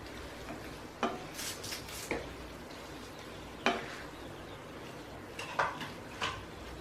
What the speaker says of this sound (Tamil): ஒரு மிக்ஸ் பண்ணிவிட்டு ஸ்டவ் ஆஃப் பண்ணிட வேண்டியதுதான்